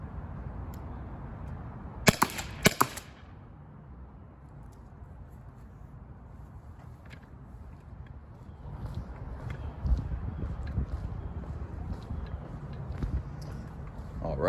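A Byrna self-defense launcher fired at a target: two sharp, loud pops in quick succession, then fainter clicks and handling noise over steady background hiss.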